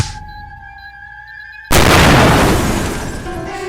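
A bomb thrown into a lab explodes in an animated story: a sudden, very loud boom that cuts through a quiet tonal hum and fades into a long rumbling roar.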